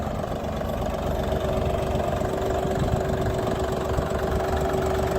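A steady diesel engine of a Dongfeng 244 tractor idles nearby, with a low, even rumble and a faint knocking texture holding constant throughout, with no voices.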